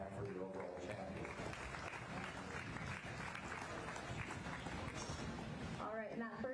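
Audience applause at a county beef show, a dense, steady wash of clapping that fills the whole stretch at an even level, with a few voices calling out near the end.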